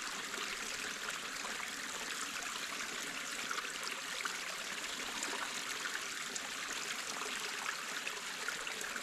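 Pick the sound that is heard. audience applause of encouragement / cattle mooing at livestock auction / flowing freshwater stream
flowing freshwater stream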